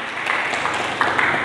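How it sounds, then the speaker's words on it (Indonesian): A short stretch of steady, dense clapping from a church congregation, moderately loud and continuous. "Mari berikan tepuk tangan bagi Yesus."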